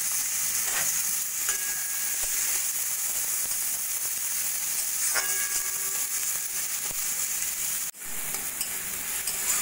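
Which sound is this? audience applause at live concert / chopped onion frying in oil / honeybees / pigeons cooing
chopped onion frying in oil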